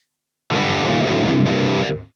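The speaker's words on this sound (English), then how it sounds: "I got another distortion sound" Heavily distorted electric guitar tone from a Mooer GE200 multi-effects unit, recorded direct with no amp; one sustained burst of roughly a second and a half, loud and dense, played alone.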